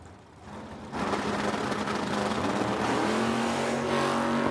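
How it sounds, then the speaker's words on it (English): A box dragster launches at a drag race at the Oil City Classic in Edmonton, Alberta: after a quiet second, the engine roars in close and loud, its pitch climbing steadily as the car pulls away. "We'll now make the call for our one and only box doubled dragster."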